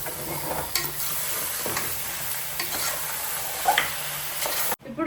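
Mutton curry being stirred in a pan in Telangana style, a spoon scraping and turning the meat with repeated strokes over a soft oil sizzle, ending abruptly.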